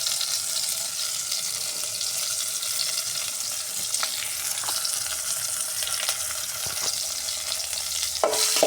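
Whole spices such as cinnamon frying in oil in a pan for a North Karnataka chicken gravy, giving a steady close sizzle with occasional stirring scrapes and a louder clatter near the end, no voices.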